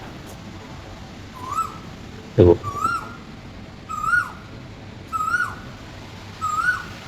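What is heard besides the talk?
Asian koel calling outside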